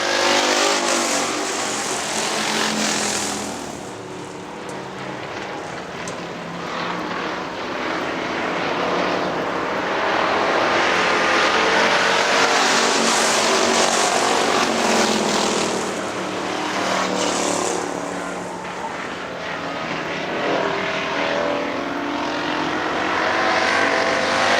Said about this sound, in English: Battle for the fourth and final transfer spot into the feature there, Nick Pressler and Lester Arandt.